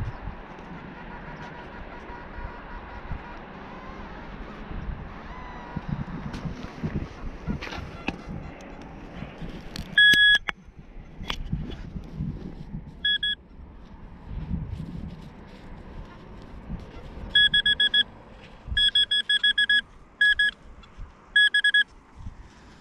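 A metal detector in the field emits a series of short, bright beeps, first a couple of isolated tones and then a rapid repeated burst, over rustling and handling noise outdoors.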